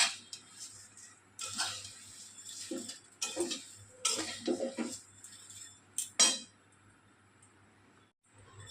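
Spatula scrapes and clinks against a pan as flattened rice (chira) dry-roasts without oil, giving irregular bursts of rustling, tinkling stirring sounds that fade to quiet near the end.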